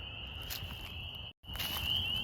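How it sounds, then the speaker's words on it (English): At night, a chorus of spring peepers mixed with chorus frogs keeps up a continuous high-pitched trill. It is fairly faint, with a brief dropout midway, and no one speaks. "These are a bunch of spring peepers, and I think there might be a few chorus frogs in this mix."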